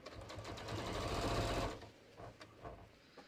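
Home sewing machine top stitching denim jeans with heavy thread: a steady loud mechanical whir for about a second and a half, then it slows into a few separate stitch thumps.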